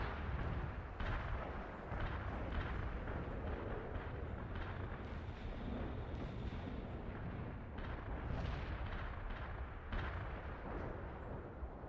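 Heavy artillery barrage in the video game World in Conflict, a dense continuous roar of repeated booming impacts and blasts, loud and sustained with no pauses.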